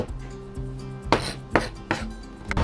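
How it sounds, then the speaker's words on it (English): A knife chopping fresh garlic cloves against a cutting board, a few sharp close knocks spaced irregularly over a low steady background hum, with no talking. "I'm going to mince up 4 cloves of garlic"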